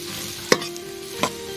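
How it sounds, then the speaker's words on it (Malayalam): Onions frying in a pan give a soft continuous sizzle, while two distinct spatula knocks or scrapes land about a second apart, close and fairly loud, with no talking. "ഇനി നല്ലപോലെ ഒന്ന് ഇളക്കി കൊടുക്കും."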